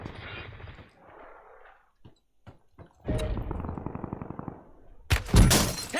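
Automatic gunfire rattles in Call of Duty Warzone on Rebirth Island, starting with scattered shots after a quiet gap and building into sustained close bursts that end in a loud final volley.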